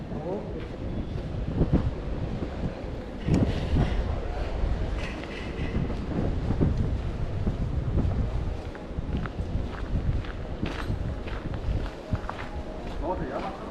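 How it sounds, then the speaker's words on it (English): Strong outdoor wind buffets the microphone with a continuous loud rumble on a windy day on 5th Avenue in Playa del Carmen, with footsteps and a voice speaking through the gusts. "Super windy out today."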